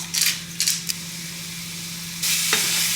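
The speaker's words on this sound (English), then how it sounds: "So I have got the chicken in the pan now." Chicken sizzles steadily in a hot pan, with a few brief louder spits and a stirring scrape, then a sharper hiss toward the end.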